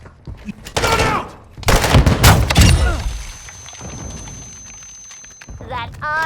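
Gunfire from the video game Modern Warfare 3 in DMZ mode: a few loud, sharp bursts of shots close by, mixed with game voice callouts and a ringing tone.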